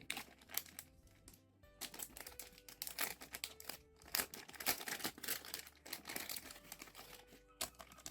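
Crinkly plastic rustling and crackling in uneven bursts, close by, with brief pauses between handlings.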